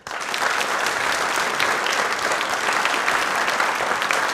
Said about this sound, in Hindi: ताली एक बार जोरदार हो जाए